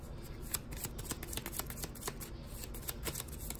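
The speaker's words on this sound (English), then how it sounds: "we'll shuffle it a little bit before we draw off of this United" A deck of Six Samurai trading cards being shuffled by hand, a close, continuous papery riffle and flutter of cards lasting several seconds with no speech.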